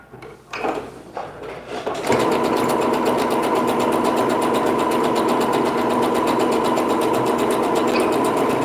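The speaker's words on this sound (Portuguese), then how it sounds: "passa uma costura de 1 centímetro de margem de costura" Sewing machine stitching a one-centimeter seam on a lined princess-seam sheath dress, a fast, even mechanical rattle running steadily for about six seconds after a few handling knocks, close and without talk.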